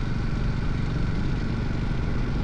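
A Kawasaki W230 motorcycle engine runs at a steady, even drone with a low rumble and a light clatter, heard close and continuous throughout with no talking.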